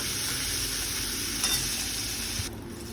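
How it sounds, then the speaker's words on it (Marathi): Curry leaves with ginger, garlic and chili paste frying in hot oil, a dense, even sizzle filling a short stretch with a faint scrape of stirring near the end. "कढीपत्त्याची पानं आणि आलं लसूण मिरची पेस्ट टाकायची आहे आणि ही थोडी तेलावर परतून घ्यायची आहे"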